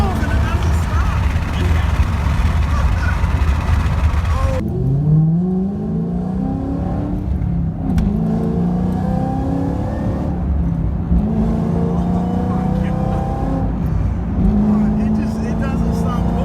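A Duramax diesel truck accelerates hard, its engine note rising in long pulls that climb again and again, loud and close, while people talk and exclaim over it throughout.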